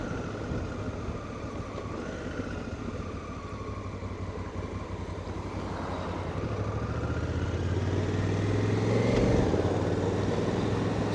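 Honda CRF1000 Africa Twin DCT motorcycle riding through city traffic, a steady engine drone and road rumble building gradually louder over about eleven seconds with no voices.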